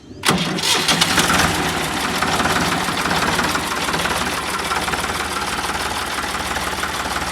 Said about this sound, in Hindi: तो ये नॉइज करता है भाई ये आपका ट्रैक्टर